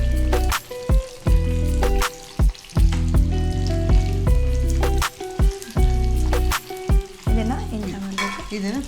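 Milk is poured into hot oil and fries in a pan for bharwan dum aloo, sizzling and bubbling under prominent tonal background music that pauses in short gaps.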